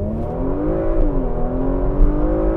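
Porsche Macan GTS pulling away hard from a standstill in first gear with Sport Response engaged, a loud, steady engine drone whose pitch climbs, dips briefly at a shift, then rises again, heard close from inside.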